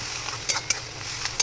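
Chopped onion with a pinch of salt frying in oil, a steady soft sizzle with two or three sharp clicks of a spatula against the pan.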